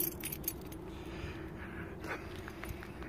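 A keychain of keys jingles close by in bright metallic bursts, steady and short, with no talking over it.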